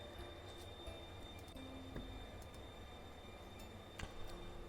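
Faint, low rumbling inside a train carriage in The Darkside Detective video game, with a few soft ticks and clicks scattered over the quiet, steady ambience.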